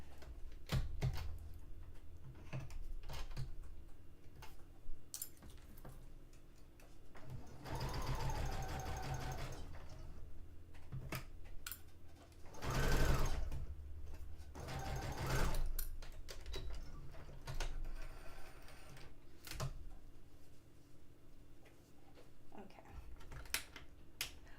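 A sewing machine stitches a dress made from bed sheets in several short bursts of rapid needle clatter, separated by quieter gaps filled with clicks and fabric handling, with no voices.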